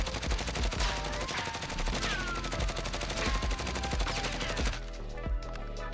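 Rapid, continuous automatic fire from a Grau assault rifle in Call of Duty Warzone, loud dense bursts of gunshots that run almost without pause and stop near the end, with no talking.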